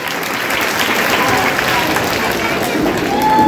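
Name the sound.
audience applause after a school play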